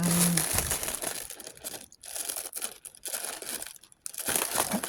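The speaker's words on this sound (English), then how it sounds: "let's unwrap this" Plastic wrap peels and crinkles off a jar of sourdough starter, a run of close, crackling rustles broken by a couple of brief pauses.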